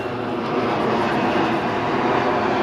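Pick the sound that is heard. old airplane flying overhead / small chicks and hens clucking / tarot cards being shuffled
old airplane flying overhead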